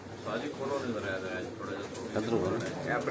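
Breeder pigeons coo in soft, rolling calls close by, blended with a voice speaking over them.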